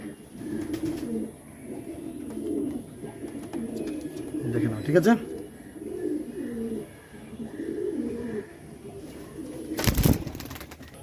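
Pigeons coo in repeated low, rolling calls throughout, close by, while a person speaks briefly and a sharp clatter breaks in near the end.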